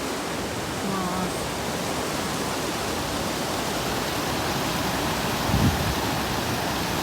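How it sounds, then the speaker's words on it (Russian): Water rushes over a weir in Nuremberg, giving a steady, dense roar that fills the scene from nearby and stays even throughout, with a faint voice briefly in the background. "Точно водосброс."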